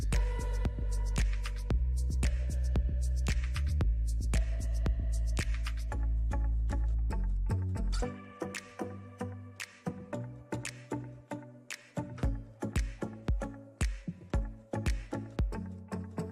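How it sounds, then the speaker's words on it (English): An industrial silage machine chops tubers, first as a loud, steady mechanical hum with a strong low drone, then as rapid, repeated chopping impacts that pulse rhythmically, close and heavy. "An efficient silage machine."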